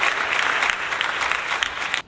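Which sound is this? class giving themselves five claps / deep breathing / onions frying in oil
class giving themselves five claps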